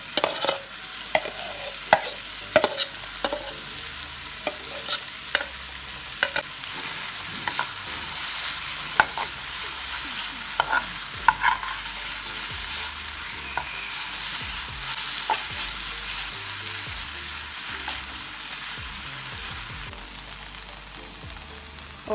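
Saltfish with black pepper frying in a pan, a steady sizzle broken by repeated scraping and clacking strokes of a spoon stirring it, close and loud with no talking.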